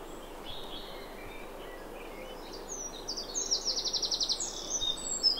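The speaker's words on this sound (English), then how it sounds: "And there's another woodpecker picking again." A woodpecker hammers a rapid, even burst of pecks toward the end, set against faint birdsong and a soft outdoor hiss in the background.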